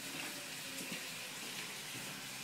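Tap water runs steadily into a pan, filling it to cover pork belly for Chinese braising, a constant close splashing rush with no voices.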